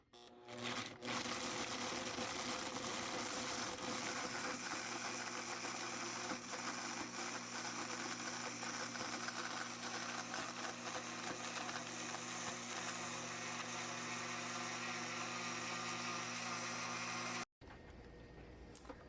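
A blender runs steadily and loudly for about seventeen seconds, whirring a lime cheesecake mixture for an Instant Pot pressure-cooker cheesecake, then cuts off abruptly, leaving quieter room noise.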